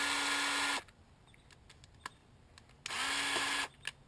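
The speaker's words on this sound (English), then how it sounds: "So I don't know how the drill holds on to this." Power drill spinning a brush for cleaning a home clothes dryer exhaust vent, two loud sustained whirring bursts separated by a quieter pause with small clicks and knocks.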